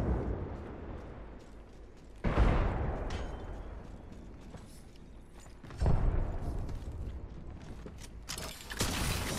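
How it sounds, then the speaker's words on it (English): Two heavy grenade blasts in a shooter video game, each a sudden loud boom followed by a rumbling decay, spaced a few seconds apart over a background of low ambient noise. "They're throwing nades in."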